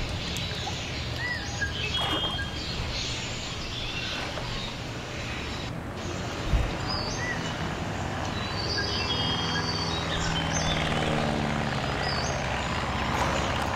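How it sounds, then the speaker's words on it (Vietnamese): A seaplane drones overhead in Placid Plastic Duck Simulator, a steady engine hum that slowly swells over a calm pool ambience with faint birdsong. "Mình nghe tiếng máy bay mà dạng thủy phi cơ ha."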